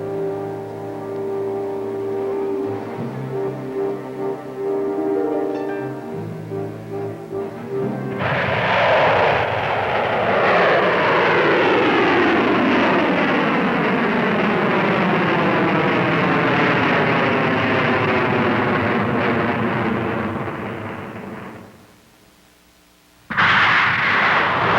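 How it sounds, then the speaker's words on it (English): A Pershing missile test launch: after a low mechanical hum, a loud sustained rocket roar erupts and holds for about fifteen seconds before cutting off abruptly, followed by a brief closing burst. "By dawn of 20 August, they were ready to fire the first missile of the test series."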